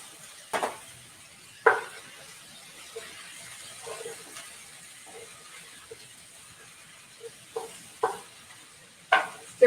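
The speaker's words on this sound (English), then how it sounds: "Stir that up." A mix seasoned with lemon zest, fresh dill and lemon juice is stirred in a bowl, giving a few scattered scraping taps over a faint hiss, close and fairly quiet.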